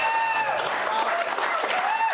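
Stadium crowd at a rugby league match applauding and cheering in a dense, steady roar that fills the whole stretch, with whistles and voices rising through the clapping.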